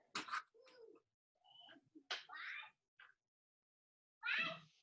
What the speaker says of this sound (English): you can hear my daughter in the background